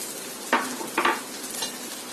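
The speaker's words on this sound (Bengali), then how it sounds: "এখন এই চিকেনের সাথে দিয়ে দিচ্ছি 2 টেবিল চামচ সবুজ ক্যাপসিকাম" Chicken fries in a pan as green capsicum goes in, a constant sizzle broken by two quick stirring scrapes, close and without talk.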